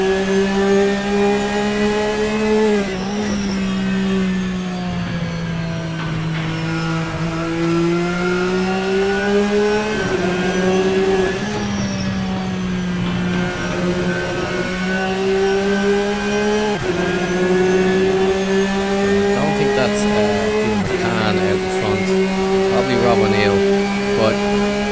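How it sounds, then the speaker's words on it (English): Onboard a GT race car lapping the Red Bull Ring, a loud, close engine drones steadily, its pitch climbing through each gear and dropping at every shift, with a commentator talking over it. "We'll just stay on board with Dave for a while just to see as we go around this lap"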